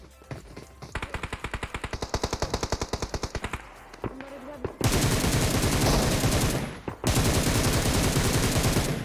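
Rapid automatic gunfire in PUBG Mobile rattles in a steady string of shots, then gives way to a louder, denser continuous barrage of fire, with little talk.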